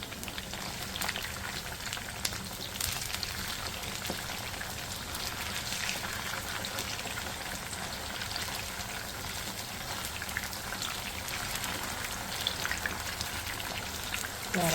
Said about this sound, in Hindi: अब इसको फ्राई करते हैं, फिर दूसरा बैच फ्राई करेंगे।